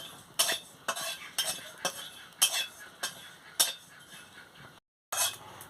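Cumin seeds fry in a kadai on a stove while a metal spatula stirs them. Sharp scraping clinks repeat roughly every half second, close and fairly quiet, with a brief silent gap near the end.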